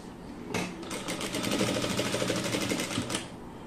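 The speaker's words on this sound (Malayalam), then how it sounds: "എന്നിട്ട് വീണ്ടും മുകളിലേക്ക് സ്റ്റിച്ച് ചെയ്ത് കൊടുക്കുക." A sewing machine stitches fabric in a rapid, even mechanical chatter that starts abruptly and runs steadily for about three seconds, close by.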